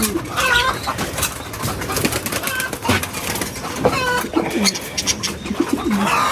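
Pigeons coo repeatedly nearby in low, throaty bursts, with a faint wing flutter and some background chatter of other birds.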